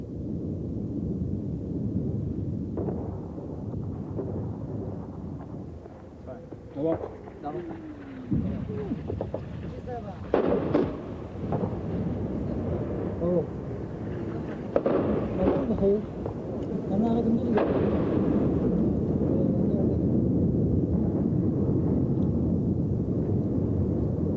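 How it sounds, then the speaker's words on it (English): Soviet mortar rounds hitting a mountaintop held by Mujahideen fighters in Afghanistan in 1984: several sharp booms at irregular intervals over a steady rumble of wind and movement, with a voice talking throughout. "the Russians started to mortar the mountaintop where we were"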